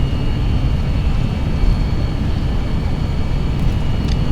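Jet engines of an FSLabs A320-X airliner in a flight simulator sit at takeoff power, producing a continuous, loud low roar with a steady broadband rush and no pauses.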